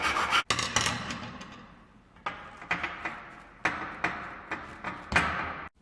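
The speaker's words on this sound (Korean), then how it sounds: "그런 다음에 둥근 줄을 가지고 쉽게" A round file rasping against a copper pipe, rough repeated strokes close by with uneven rhythm and a few light knocks between them, no talking.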